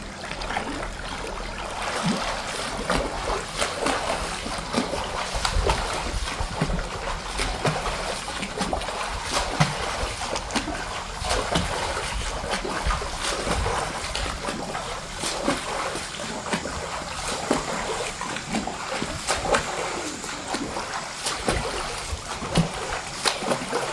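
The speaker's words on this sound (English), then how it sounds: "I will swim 3 laps, which is 6 lengths, which is 100 yards" Water churns and splashes steadily as a person swims laps in a pool, a continuous close wash of strokes and sloshing with no talk.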